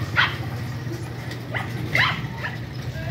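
A few short dog barks or yips, spaced apart, fairly close, over a low steady background hum.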